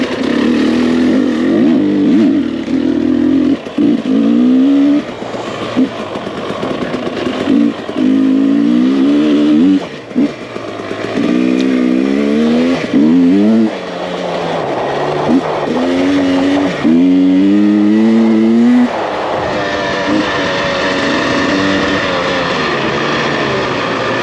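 A two-stroke enduro dirt bike rides fast along a flowing trail, its engine loud and close, revving and rising in pitch again and again as the throttle opens and closes.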